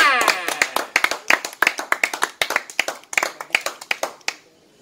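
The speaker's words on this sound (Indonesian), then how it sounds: "Tepuk tangannya semuanya" A small group at a music lesson claps hands in a quick, uneven burst of sharp slaps, close by, trailing off into quiet after several seconds.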